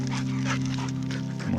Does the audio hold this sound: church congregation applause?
no